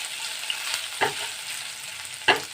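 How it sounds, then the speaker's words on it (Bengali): Ginger being stirred and fried in a pan for a Bengali kochu shak dalna, a steady faint sizzle broken by two distinct spatula scrapes, close and alone. "আদাটা আমি ভালো করে নেড়ে নিচ্ছি"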